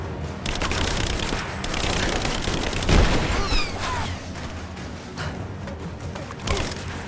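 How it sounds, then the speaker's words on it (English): Suppressing gunfire in Rise of the Tomb Raider, a sustained rattle of rapid shots and a heavier blast near the middle, with shouted voices mixed into the combat noise. "Give me suppressing fire now! Covering fire!"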